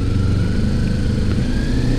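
A 2018 Kawasaki Ninja 250 motorcycle pulls smoothly away from low speed, its engine droning loud and steady up close with a rising, even tone and no one talking.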